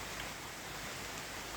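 Heavy rain pours on a garden in London in August, a dense, even hiss of falling water with no distinct drops standing out, steady and fairly close, with no voices.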